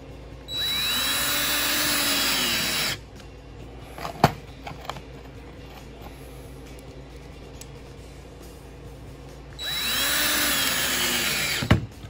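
A power drill drives screws to fit a hinge onto the door of a homemade quail cage, two loud sustained whirring bursts a few seconds each with quieter clatter and handling noises between them.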